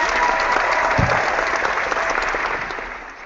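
Canned clapping sound effect played during a podcast: a steady, dense burst of many hands applauding at close, even volume, tapering slightly at the end.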